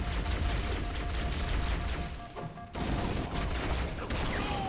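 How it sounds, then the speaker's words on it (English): Dense, continuous gunfire and explosive bursts fill a video game firefight, with a grenade blast landing amid the chaos; the din dips briefly midway before the loud barrage resumes. "There's a grenade there in the center. I just got grenaded."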